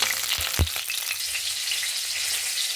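Cauliflower pieces frying in hot oil, a loud, close, crackling sizzle that runs steadily throughout, broken early by a couple of dull knocks against the pan.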